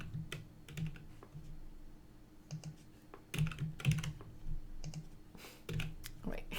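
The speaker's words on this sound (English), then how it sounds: "I keep typing the same numbers there" Number keys tapped on a computer keyboard while building a sum column in a SharePoint list imported from Excel, in uneven bursts of clicks, sometimes under a speaking voice.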